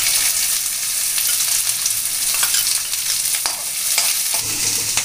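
Mustard seeds, cumin, crushed garlic and chopped onion frying in hot oil for baingan bharta, a loud dense sizzle with scattered spatula scrapes, no talking.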